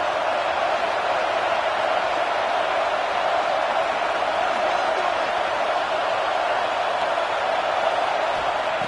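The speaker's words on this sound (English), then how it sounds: "wow, listen to this crowd noise. This stadium is vibrating" A stadium crowd in the College Football 26 video game, Auburn at Alabama, roars as a steady, loud, dense wash of cheering that holds without a break for the whole stretch.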